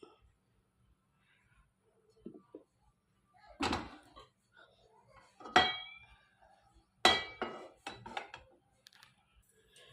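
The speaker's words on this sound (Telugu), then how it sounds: "ఇప్పుడు ఒక ప్యాన్ పెట్టుకొని దాంట్లో కొంచెం ఆయిల్ వేసుకుందాం" A pan is set down on a stove with several sharp metallic clanks and clinks, close and fairly quiet, spaced out over a few seconds with quiet gaps between them, as oil is added for frying paneer.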